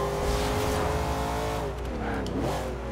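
A Chevrolet Camaro Z/28 in Bumblebee livery drifts in Forza Horizon 2, its engine droning loud and steady with rising and falling revs and a brief tire squeal near the end.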